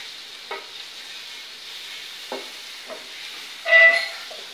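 Eggs frying with onions and masala in a pan, a steady soft sizzle with a few stirring scrapes and a brief louder burst of hissing near the end, no voices.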